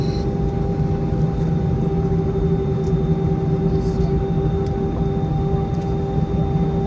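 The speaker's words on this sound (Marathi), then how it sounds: "आता विमान टेक ऑफ होणार आहे." Air India airliner on a flight from Cochin to Pune, taxiing toward the runway before takeoff, heard from inside the cabin as a steady, loud low rumble with a constant engine whine throughout.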